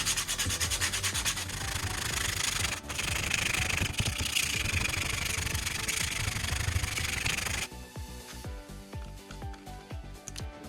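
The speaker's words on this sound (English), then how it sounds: "And quickly sanding it down." A scrap wood board for a dining board is sanded with a steady, loud, rough rubbing that runs continuously for most of the stretch. It then gives way to quieter scraping and tapping.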